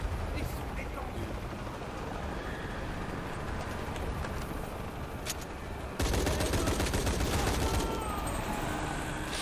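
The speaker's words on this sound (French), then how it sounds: "Vraiment, il y a des gens qui me tirent dessus mais je les vois pas." Enemy gunfire in the video game Shadow of the Tomb Raider, rapid bursts of shots crackling over game ambience and growing louder and denser partway through.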